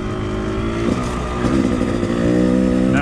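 A motorcycle riding a single-track mountain trail in the Owyhee Mountains, its engine a loud steady drone that rises in pitch and revs up partway through, close to the microphone.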